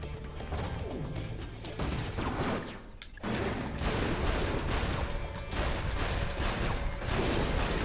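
Dense, continuous gunfire and crashing impacts from Ratchet: Deadlocked, a shooter video game, with rapid overlapping shots and explosions, loud and close, with a brief lull midway.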